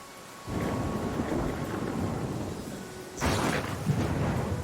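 Thunder and pouring rain from the Pathfinder: Kingmaker video game: a steady loud rain wash begins after a half-second, then a heavy thunder crack rolls in near the end, with no talk.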